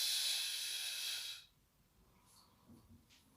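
A long, forceful breath pushed out during a Pilates home workout makes a steady airy hiss for about a second and a half, then gives way to near silence.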